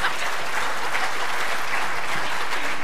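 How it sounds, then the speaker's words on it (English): Audience applause at a barbershop chorus concert, a dense, steady wash of clapping from a crowd that holds evenly loud for the whole span with no voices over it. "You can clap now."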